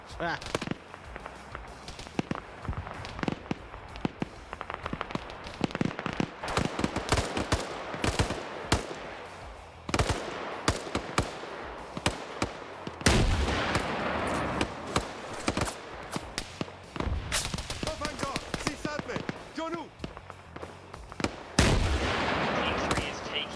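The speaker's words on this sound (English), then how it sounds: "RPG fire from the north." A military video game firefight with repeated gunshots, bursts of automatic fire and heavy RPG blasts cracks in irregular volleys, some loud and close, others distant, with voices talking over the combat.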